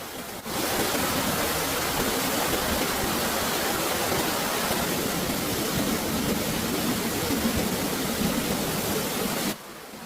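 A waterfall pours in a steady, dense rush of broadband water noise, loud and unbroken throughout with no voices.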